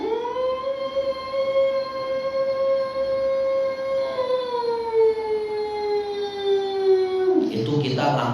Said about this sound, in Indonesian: sirine itu sudah masuk waktu maghrib